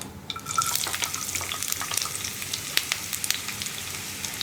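Round-cut onion slices sizzle in hot oil as mustard seeds pop while preparing a kumbalanga parippu curry, with a steady close frying hiss and frequent sharp crackles.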